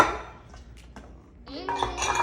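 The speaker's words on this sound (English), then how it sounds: "Let me get these plates out of the way" Plates are shifted aside in a kitchen: a few light ceramic clinks and knocks, followed by a busier clatter of dishes touching.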